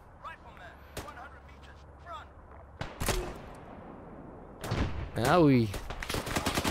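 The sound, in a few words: gunfire in Arma 3 video game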